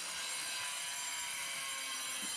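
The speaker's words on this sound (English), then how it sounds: "these guys and their cutters, power tools" Power tool cutters run during a renovation, making a continuous whining, buzzing cut with a steady level and no talking.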